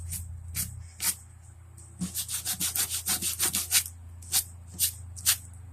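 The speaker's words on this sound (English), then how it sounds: "just take a little bit of sandpaper on one side" Sandpaper rubs against a guitar truss rod area in a dozen or so short, close scraping strokes, a quick run of them in the middle, over a steady low hum.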